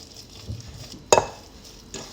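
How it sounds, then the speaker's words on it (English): Ingredients for a Jewish-Asian Passover chicken soup are stirred in a bowl, soft scraping with one sharp utensil clack in the middle, close and otherwise quiet. "Let's give this a mix."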